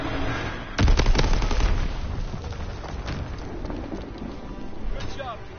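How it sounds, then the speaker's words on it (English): A bomb in a World War II video game detonates with a sudden loud boom, then trails into a rumbling, crackling aftermath with faint voices in the background. "Enemy bomb incoming."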